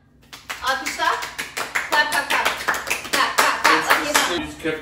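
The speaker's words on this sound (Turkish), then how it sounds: "Alkışlar." A few people in a home kitchen clap by hand after a banana pudding is finished, a close, fairly quick run of distinct, slightly uneven claps, with a voice briefly heard among them.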